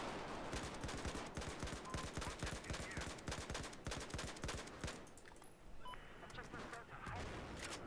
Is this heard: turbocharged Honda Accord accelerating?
no